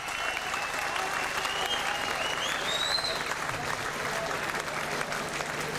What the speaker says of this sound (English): a huge round of applause for both fighters for a fantastic bout